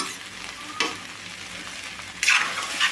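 Ivy gourd (dondakaya) pieces and onion fry in a pan with a steady soft sizzle, broken by a couple of louder stirring scrapes partway through and near the end.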